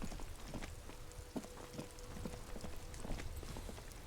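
Steady rain pours down in the detective game Disco Elysium, a dense, even hiss with scattered patters and taps running throughout at moderate loudness.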